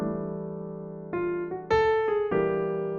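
A short melodic phrase of several plucked or struck notes climbing in steps, ringing clearly and alone with sustained tones.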